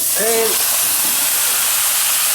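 Beef hitting hot fried-off homemade madras curry paste in a pan, a loud, steady steam-like hiss filling the whole moment, with a brief tonal squeak near the start.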